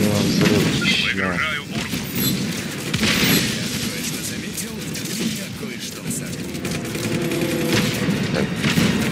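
Explosions boom and gunfire crackles in the video game Just Cause 3, loud and repeated, with a voice talking over the chaotic blasts.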